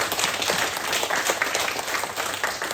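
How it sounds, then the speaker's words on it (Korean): A church congregation applauds to welcome visiting members at a Palm Sunday service, dense steady clapping filling the room throughout, no voices above it. "박수로 한번 환영해 주시면 감사하겠습니다"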